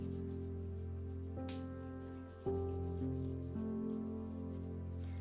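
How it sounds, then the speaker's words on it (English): Sunscreen lotion is rubbed into the hands, a steady, close, soft rubbing and sliding sound that runs without a break and carries no speech. "And rub it on the back of your hands more than the front"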